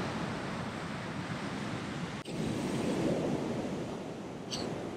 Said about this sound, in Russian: Но океан бушует и холодно.